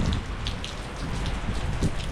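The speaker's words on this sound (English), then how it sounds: "it's raining here" Heavy rain pours outdoors in a sunshower, a dense continuous patter with scattered individual drop splashes, loud and close throughout.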